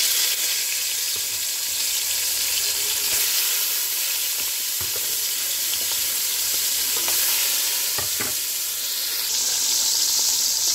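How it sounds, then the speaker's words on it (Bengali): Koi fish frying in a pan, a steady bright sizzle and hiss close up, with a few soft clinks and stirring touches and no talking. "মাছগুলি ভাজা শুরু করি।"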